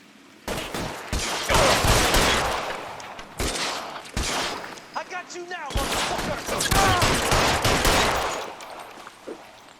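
Rapid gunfire rattles through a shootout in the video game L.A. Noire, with dense bursts of shots in long volleys, brief pauses between them, and voices talking at times amid the shooting.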